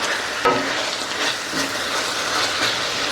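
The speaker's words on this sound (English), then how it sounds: "We are 35 minutes into caramelizing these onions." Onions caramelize in a pan, about 35 minutes into cooking, giving a steady close sizzle and hiss throughout with no talk.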